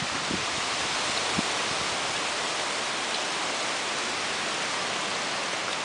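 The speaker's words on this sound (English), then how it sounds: "But it's been raining like this for, God, at least 5 hours." Steady rain falling outdoors, a dense, even hiss with occasional faint drips and taps, continuous and fairly soft throughout.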